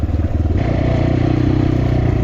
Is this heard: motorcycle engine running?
yes